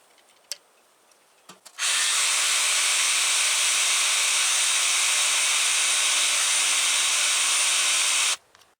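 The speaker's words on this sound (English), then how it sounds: "I'm going to put a little oil on the drill." A drill press bores steadily into metal while building a potato cage tool, a loud, even high-pitched whine that starts abruptly, holds for about six seconds and stops cleanly.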